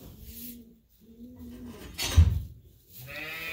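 Young lambs bleating in a farm pen, several short, high calls in separate bursts with a brief thump in the middle, fairly close and without talk.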